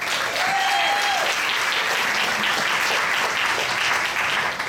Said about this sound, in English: Let's get a round of applause for David Sumi.